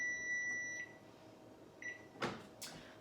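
An oven door opens and shuts and trays clunk as roasted nuts come out, a couple of sharp knocks and a faint beep-like tone in a quiet kitchen, with no voices.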